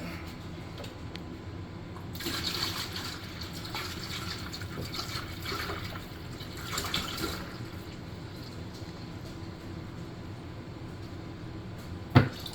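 Lemonade pours into a mixed party drink, a soft continuous liquid trickle and fill sound at moderate distance, ending with a short sharp clink.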